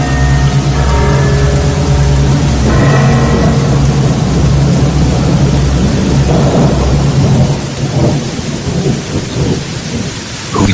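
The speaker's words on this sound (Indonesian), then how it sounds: "Hujan malah semakin besar." Heavy rain pours down during a thunderstorm, a loud dense hiss with deep rolling thunder rumbling through the first half before easing into steady downpour.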